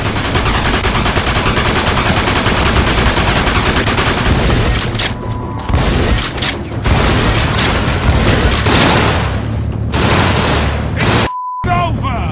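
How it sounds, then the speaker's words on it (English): Gunfire from the Mafia 2 video game fills the whole stretch with dense, loud, continuous bursts of shots and booms, broken only by brief gaps near the end. "They're shooting at me, for Christ's sakes!"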